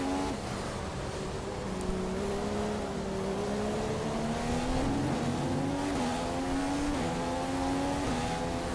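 A Ferrari Formula 1 car in the F1 2016 video game holds a continuous, high engine whine while cruising a lap, its pitch drifting and climbing gradually with no talk over it.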